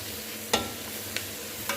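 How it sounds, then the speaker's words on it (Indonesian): Small shrimp sizzle with spices in a frying pan, with three sharp scraping stir strokes over a steady background hiss of frying. "Udah wangi, udah tumis ini rubian kecilnya."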